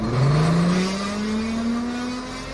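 An aircraft ground air start unit (GTC) idles with a steady, loud turbine whine that edges slowly upward in pitch over a broad rushing roar, continuous and close, with no voices.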